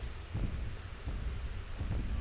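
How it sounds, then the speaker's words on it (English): Rumbling thunder from a lightning attack in World of Warcraft Classic, a continuous low, noisy roll with periodic swells, steady and fairly loud, with no talk. "They have a nasty lightning attack."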